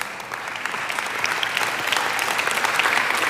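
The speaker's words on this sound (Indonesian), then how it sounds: "kurang antusias tepuk tangannya" Church congregation applauding, a dense wash of many hands clapping that stays steady and grows slightly louder, heard from within the crowd.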